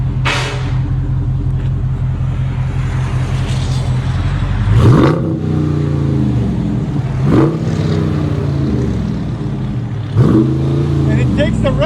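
A car engine fitted with aftermarket exhaust tips rumbles at a deep, steady idle, then blips through several sharp revs that rise and fall about every two to three seconds, close and loud, with people talking over it.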